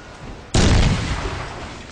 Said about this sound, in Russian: Сейчас все равно он гранаты кидает